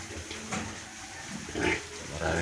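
A pig farm's sow nursing eight newborn piglets after her fourth farrowing, with soft grunts and low snuffling noises close by, while a steady background hum runs throughout.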